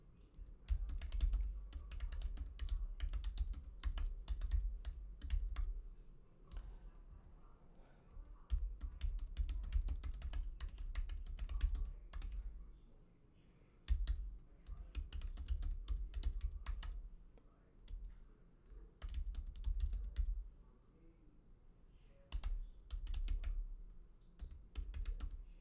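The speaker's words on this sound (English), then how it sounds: "then I'm going to start typing" Computer keyboard typing in rapid bursts of close, crisp clicks, separated by short pauses, quiet and alone with no voices.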